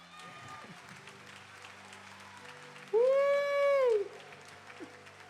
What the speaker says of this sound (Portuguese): Para você aplaudir mais forte, todo mundo junto para o Senhor.